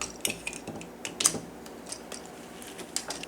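A plastic Megatron Titans Return transforming toy from 2016 has its foot folded in, giving a few quiet, close plastic clicks and small snaps, with no voices.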